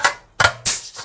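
Three sharp mechanical punches from a hole-punching tool biting through a steel inner wing panel of a classic Vauxhall Royale Coupé, making plug-weld holes; each is a short, loud metallic crunch with brief pauses between.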